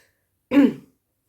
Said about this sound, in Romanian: îmi vine să tușesc